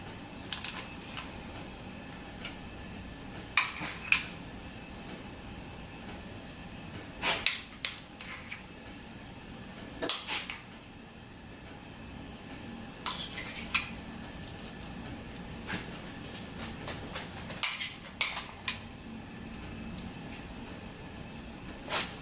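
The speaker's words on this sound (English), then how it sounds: "you just take your spoon and spread it all over" Metal spoon scraping and tapping as cream cheese mix is spread over salmon fillets on a dish, intermittent soft clinks and smears spaced a few seconds apart against a quiet kitchen background.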